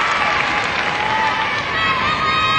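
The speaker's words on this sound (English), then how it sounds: "Big round of applause" A large crowd applauds and cheers steadily for Australian gymnast Stephanie Moorhouse at the 2002 Commonwealth Games floor final, with dense, even clapping that fills the arena without a break.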